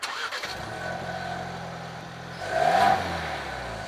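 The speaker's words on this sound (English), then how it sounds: "I'll start it up so you guys can hear the engine" A 2021 Ford Bronco Badlands engine cranks and catches, settles into a close steady idle, then gives one brief rev that swells and drops back to idle.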